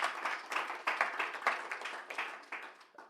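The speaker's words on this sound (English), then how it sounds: "Please let's give applause for the judge in the building." A room of conference attendees applauding a judge, a dense patter of hand claps in rhythmic bursts, moderately close and fading toward the end.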